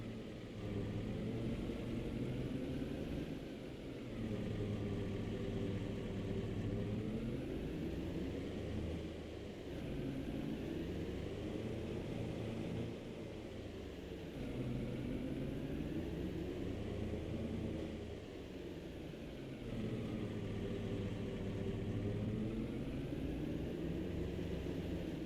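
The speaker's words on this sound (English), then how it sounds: "Oh, it's that tractor." A tractor in a farming video game rumbles steadily and loudly for the whole stretch, its low engine drone swelling and easing slightly as it passes, with no talking over it.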